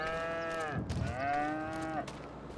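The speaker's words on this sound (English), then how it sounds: "And those are Highland cows." Highland cows in a modded vintage farming video game give two long, drawn-out moos in succession, clear and moderately loud over a faint background.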